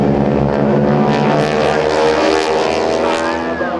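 Propeller aerobatic planes of the Aeroshell Aerobatic Team flying a diamond formation loop at the 2009 Dover AFB airshow in Delaware, a loud, steady multi-engine drone with shifting pitch sustained throughout.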